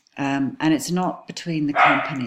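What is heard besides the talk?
dog barking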